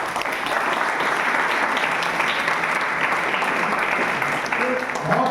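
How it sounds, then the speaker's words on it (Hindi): An audience at a book writing and publishing skills seminar at an engineering college breaks into warm applause for the speaker, a broad, steady burst of many hands clapping close by, with some voices under it. "सबसे पहले इनके लिए ताली बजाइए आप।"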